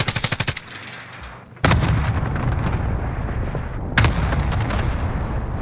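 Gunfire in the video game Call of Duty Warzone: a rapid burst of shots, then two heavy, loud blasts that ring out and decay, dense and close with no voices over them.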